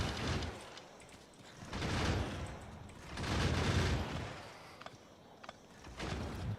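Factorio gun turrets fire at biters in bursts of rapid, dense gunfire that swell and fade in three or four waves, fairly close and loud, with brief sharp pops between the bursts and no talking.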